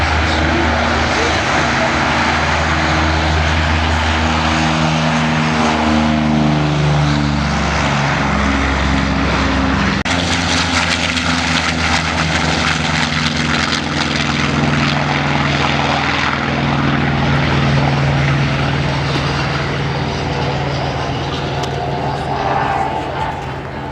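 A propeller airplane flies at the La Ferté-Alais airshow, its loud engine drone holding steady and continuous, with the pitch shifting gradually as it passes.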